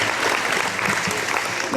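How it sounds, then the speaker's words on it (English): A short burst of dense, steady applause rises from an audience at an air museum gathering, filling the brief moment with overlapping claps. "Please give them a round of applause for hosting us"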